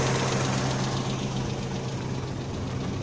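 A 2006 Suzuki Mehran car engine fitted with a hydrogen kit idles steadily, a continuous low hum with a faint knocking texture, alone and without talk.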